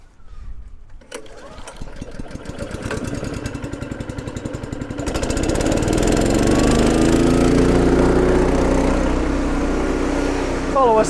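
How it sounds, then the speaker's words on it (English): A gutter vacuum interceptor machine starts and then runs steadily at a loud, droning pitch, rising in intensity partway through. It is set up to pull grass out of gutters at low points during a gutter clean from the ground. "we're going to fire up the interceptor and just pull that grass out at those low point locations"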